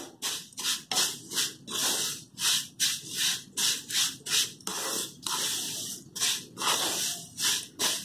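Vermicelli roasting in a pan is stirred steadily, each stroke making a dry, scratchy rasp in a quick repeating rhythm, close and fairly loud with no talk.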